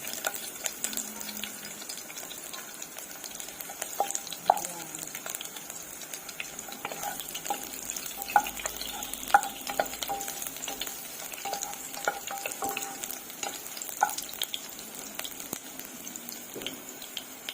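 Garlic frying in hot canola oil in a non-stick pan, a steady low crackle and sizzle with occasional stirring clinks, close and continuous with no talk.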